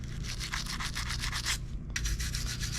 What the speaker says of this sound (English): grab your brush and get to scrubbing